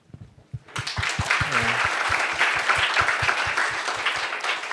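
Audience applause breaks out at a memorial ceremony, loud and full after a brief pause, holding as a dense, even roar of many hands while faint rhythmic thumps run underneath.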